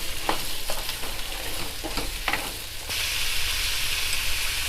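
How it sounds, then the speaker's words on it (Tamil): Ginger and garlic sautéing in a pan for spicy South Indian kara chutney: a continuous close sizzle broken by several sharp stirring scrapes, then a louder, brighter hiss toward the end. "பூண்டு, சேர்த்து எல்லாத்தையும் சேர்த்து வதக்கிக்கலாம்."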